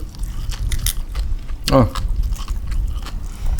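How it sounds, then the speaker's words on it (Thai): Someone bites into a crunchy Thai papaya salad made with fermented fish sauce and bird papaya. One loud close crunch comes midway, with softer chewing and background talk around it. "เอาวะกัดเบิ้ง"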